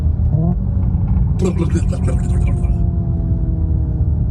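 Ferrari engine burbling through its exhaust, a low rumble that swells briefly in a throaty rise and then settles back to a steady idle, close by with a voice speaking over it.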